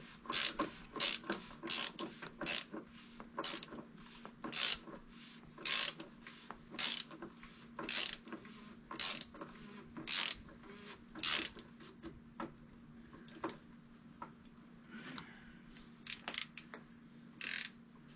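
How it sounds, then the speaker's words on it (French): A hand ratchet wrench works on bolts during a service of a VW Amarok, giving a run of quick, crisp clicking bursts in an irregular rhythm, fairly faint and close, with no one speaking. "quand les premiers filets sont en place, on finit à la clé"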